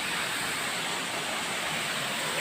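A waterfall rushes steadily at a moderate distance, a continuous even hiss of falling water with no pauses or voices.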